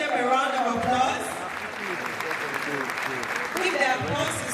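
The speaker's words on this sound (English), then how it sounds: "Please, let's give them a round of applause." An audience applauds at a formal gathering, steady clapping from a crowd held over the whole stretch, moderately loud with murmuring and voices mixed in.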